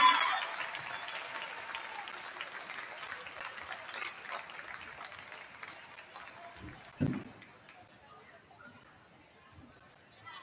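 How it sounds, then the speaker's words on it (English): Applause from a crowd at a women's varsity high school basketball game, Neenah vs Wausau West, honoring a player's 2,000th career point; moderate clapping fades over several seconds amid gym chatter, with a brief louder thump near the end. "Big round of applause for Ellie Zabelle"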